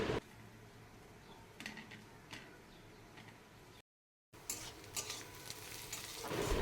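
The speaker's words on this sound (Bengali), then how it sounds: "এদিকে পেঁয়াজটা আমার খুব ভালোভাবে ভাজা করা হয়ে গেছে লাল লাল করে।" Sliced onions fry in a pan until reddish, giving a soft, steady sizzle with occasional light clicks and a brief silent break partway through.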